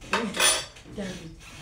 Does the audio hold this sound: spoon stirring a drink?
yes